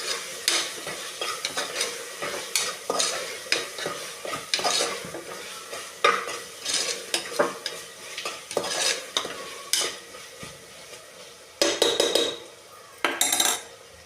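Kasuri methi being stirred and fried in a pan for vegetable pulav: a soft sizzle under repeated scraping spoon strokes and light metal clinks against the pot, with a couple of louder clattering bursts near the end.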